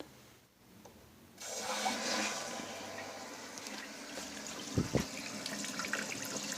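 A household toilet tank refills after its supply valve is opened, a steady rushing and hissing of water starting abruptly after a brief quiet, with a couple of close thumps partway through.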